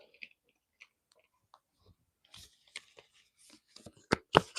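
A deck of tarot cards is shuffled in a quiet room: sparse soft taps and slides at first, then a quick cluster of sharp papery riffles and snaps at the end.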